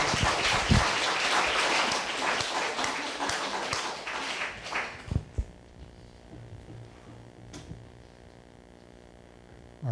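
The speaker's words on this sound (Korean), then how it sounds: "큰 박수로 좀 환영 좀" An audience claps to welcome a speaker at a Korean speech event, a dense burst of applause that thins out and dies away after about five seconds, leaving a low hum with a few scattered claps.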